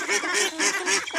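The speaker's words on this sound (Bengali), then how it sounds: "এই দেখুন আমাদের হাঁস" Ducks honk and quack on a farm pond in a repeated, loud, rhythmic series of calls close by, with no talking.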